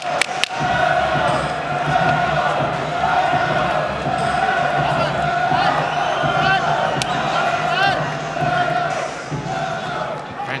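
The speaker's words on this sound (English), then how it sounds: "Fantastic crowd on hand" An arena crowd at a BAMMA MMA fight at the Capital FM Arena keeps up a steady roar of cheering and shouting, with thuds from the cage and a commentator talking throughout.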